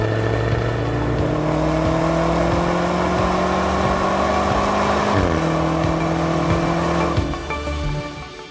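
A 2020 Jaguar F-Type R Coupe V8 engine drones loudly and steadily, its pitch shifting as it revs, then the roar eases off near the end.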